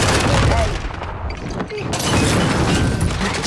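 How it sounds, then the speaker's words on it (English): Sustained rapid gunfire from a minigun in Call of Duty multiplayer, a dense continuous loud burst filling the whole stretch with booming impacts, while players chatter over it. "he's on a minigun, dude"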